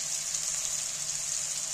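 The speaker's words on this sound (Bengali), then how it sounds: "মিক্সার ধোয়া জলটা আমি দিয়ে দিচ্ছি।" Water used to rinse a mixer jar is poured into a cooking pot for potato curry, a steady continuous trickle and splash close by.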